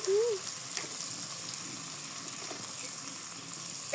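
Small fish frying in a pan with cumin and garlic, a soft continuous sizzle at low level with occasional faint clinks and stirring.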